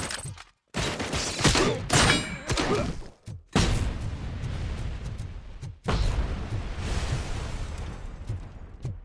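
Dense, loud gunfire in Robocop: Rogue City comes in long rattling volleys with heavy thumps, broken by a few sudden silent gaps.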